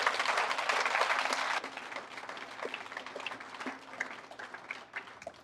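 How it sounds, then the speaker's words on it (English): Audience applause at a 2021 GED graduation ceremony, a dense burst of clapping for the first second and a half that thins into scattered, fading claps. "give yourself a round of applause"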